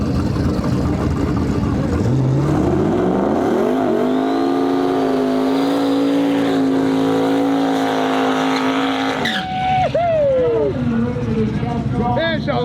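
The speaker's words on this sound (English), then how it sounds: "And Sheldon knows how to do a burnout." Sheldon Root's Acadian drag car roars through a burnout at a no-prep drag racing shootout in Western Canada, the engine climbing and holding a loud sustained howl before cutting off and dropping back, close and dominant over crowd noise.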